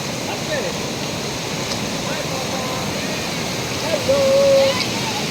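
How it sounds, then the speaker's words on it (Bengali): Strong, unusually fast current of the Teesta river near Kalimpong makes a steady broadband rush of flowing water throughout, with a brief whistle-like tone near the end. "তিস্তা স্রোত দেখো তিস্তা স্রোত অস্বাভাবিক স্রোত"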